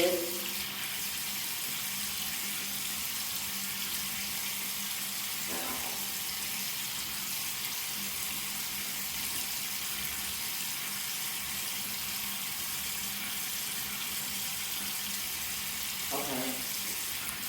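A bathroom tap runs as a steady hiss of water while a face is wetted, with brief faint voice-like sounds now and then over the flow.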